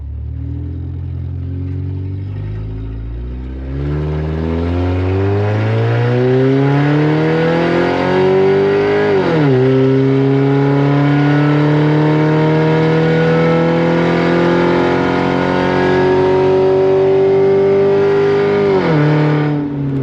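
A 4-cylinder car with a modified, loud exhaust pulls away and accelerates down the road, its engine note rising through the gears with a shift drop partway, heard from inside, loud and continuous.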